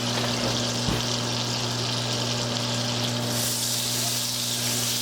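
Pork chops seasoned with salt and pepper sizzle in a hot pan of butter and olive oil, a steady close crackling hiss that holds throughout with no talking.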